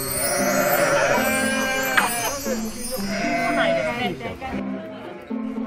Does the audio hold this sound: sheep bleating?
yes